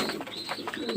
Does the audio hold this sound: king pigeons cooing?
yes